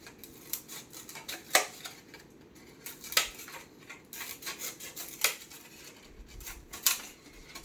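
Scissors trim a piece of styrofoam sheet, a few sharp snips spaced a second or two apart over faint background rustle.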